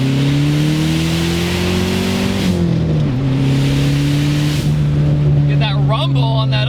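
Inside a Dodge Neon SRT4 under acceleration, the engine drones loudly and rises in pitch, drops on an upshift, then climbs again with a low rumble, while someone talks over it.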